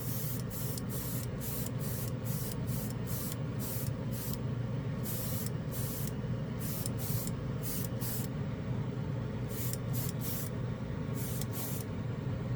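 An acrylic spray paint can hisses in repeated short bursts, a rapid series of sharp sprays with brief gaps, loud and close over a steady background rush.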